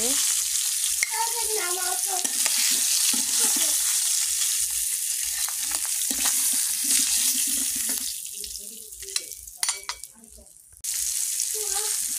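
Pangas fish pieces frying in a small wok, a steady close sizzle and crackle of hot oil running throughout, with brief clatters and a quieter dip near the end before the sizzle returns.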